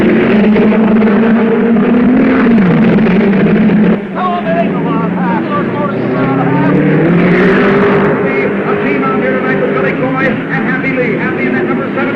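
Race cars roar off together at the flag drop for a 40-lap main event, a loud continuous engine din with pitch sweeps as the pack accelerates, a commentator talking over it throughout.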